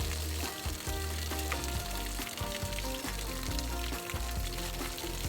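Hot water gushes steadily out of an RV water heater drain opening, a dense, constant splashing pour with no talking, holding even from start to finish.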